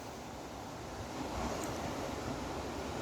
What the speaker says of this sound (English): and listen to the river